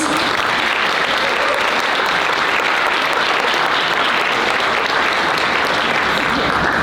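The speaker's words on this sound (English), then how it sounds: "So again, another round of applause for Lee Shitten and the students." Sustained applause from a crowd of diners at a Chinese Club dinner event, a dense and steady wash of clapping that fills the room at close range for the whole stretch, with no break.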